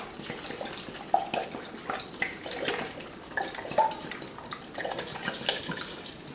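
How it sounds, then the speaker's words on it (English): About a litre of vinegar is poured into a large pot of green tomatoes, a steady liquid splashing and trickling that runs for several seconds, close and moderately loud. "So the first thing we add to the large pot is the tomatoes, followed by the vinegar."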